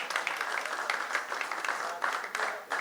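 Audience applause at a university poetry gathering (mushaira) at an international university in Islamabad, a steady wash of many hands clapping from a crowd, sustained throughout with small swells and no pauses.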